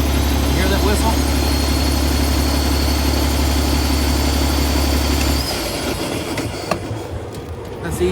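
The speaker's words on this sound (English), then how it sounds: "Hear that whistle? Wait till that EGR kicks in." An ISX 15 truck engine with an EGR problem idles loudly with a steady low drone and a thin high whistle running above it. The rumble drops off partway through, leaving quieter mechanical noise and clicks.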